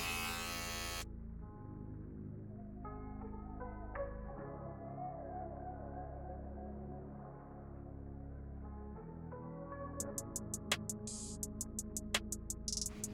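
Electric hair clippers buzz steadily and close up while cutting a taper haircut, a continuous hum with brief shifts in pitch and a few short clicks near the end.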